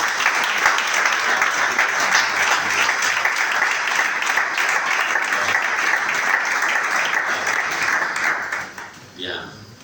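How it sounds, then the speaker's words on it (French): A church congregation bursts into sustained applause and cheering at a French-language worship service, loud and steady for about nine seconds before tapering off at the end. "Acclamons."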